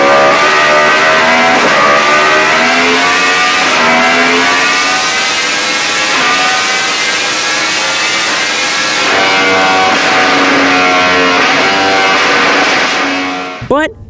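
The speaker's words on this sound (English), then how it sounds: "Austin Racing actually makes my personal favorite exhaust system for the R1" A Yamaha R1 crossplane motorcycle fitted with an Austin Racing exhaust revs hard and continuously, its loud rising and falling engine note sustained alone for about fourteen seconds before cutting off abruptly.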